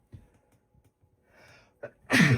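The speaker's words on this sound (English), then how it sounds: "Oh, I gotta sneeze again, man." A single loud sneeze bursts out at the end, preceded by a few soft breaths and a quick sharp inhale.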